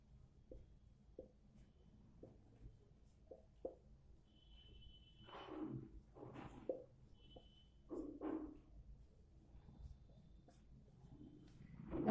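Pen or pencil writing numbers by hand on paper, quiet scratchy strokes in short bursts at close range, with faint background noise.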